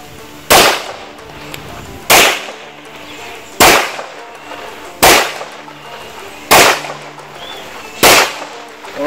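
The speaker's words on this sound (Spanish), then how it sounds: "Vamos a ver que sacamos otros 6 disparos, el arma no se trabó para nada" Six sharp shots from a traumatic pistol crack out one by one at steady intervals of about a second and a half, loud and close with short echoing tails and no talk.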